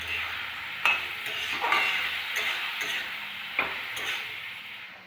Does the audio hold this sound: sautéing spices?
yes